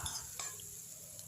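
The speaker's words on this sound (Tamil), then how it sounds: "நல்லா வதக்கி விட்டுடலாம்." Chopped onions sautéing in hot oil for millet vegetable noodles, a steady soft sizzle with faint stirring scrapes, close and continuous with no talk.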